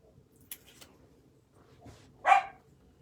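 A dog gives one short, fairly loud bark in a quiet indoor craft room, preceded by a few faint knocks and rustles.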